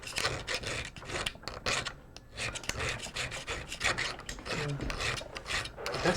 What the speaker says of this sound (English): I'm just gonna be filing this metal.